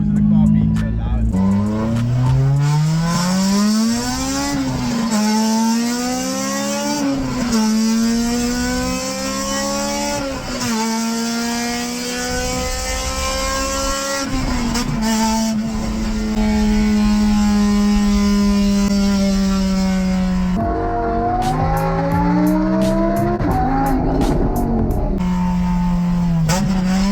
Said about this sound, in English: We already got complaints now by the neighbors because of the car being so loud.